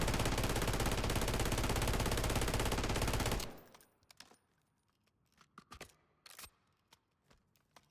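A mounted machine gun in Call of Duty MW3 fires one dense, unbroken burst of rapid rounds that runs hot enough for the barrel to catch fire. It cuts off abruptly and is followed by a scatter of faint clicks and taps.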